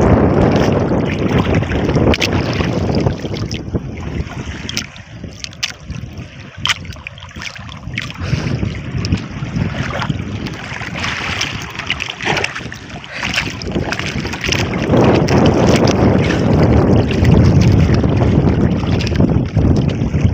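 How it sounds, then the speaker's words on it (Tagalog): A boat passing close on open water near an island, its motor and the rush of water and wind filling the air in a loud, uneven wash that swells and dips, with no clear talk over it. "Malapit ng bangka."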